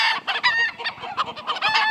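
Blue Andalusian chickens at a flock sorting give off busy overlapping clucks and squawks, close and loud, with a crow-like call among them and no speech.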